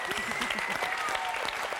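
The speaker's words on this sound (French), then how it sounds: "on peut applaudir la seule fille qui va rester avec nous, Marine, avec sa maman Patricia d'Orléans." A studio audience applauds on the French TV game show Attention à la marche, a brief burst of dense clapping with a voice speaking over it.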